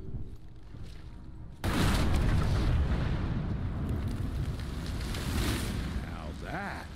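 A sudden loud blast from the video game Evil West erupts and rolls into a long, rumbling roar with crackling debris, fading slightly toward the end.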